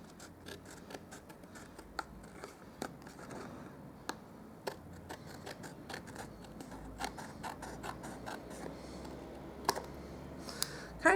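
Scissors trim cardstock for a leaf card, with a run of sharp, quiet snips and light paper rustling close by, irregular and spaced apart.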